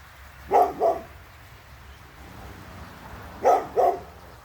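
A dog barks twice in quick pairs, two short double woofs a few seconds apart, fairly close against a quiet background.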